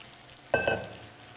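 Bananas drop into a pan of bubbling butter and brown sugar caramel, a sudden sizzling burst with a second splash just after, settling into a quieter hiss.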